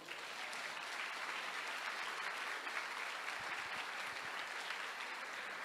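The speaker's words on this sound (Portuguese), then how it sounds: "Você pode aplaudir o Senhor?" A church congregation applauds during a sermon, a dense, even wash of clapping from many hands held at a constant level for several seconds, somewhat distant, with no speech over it.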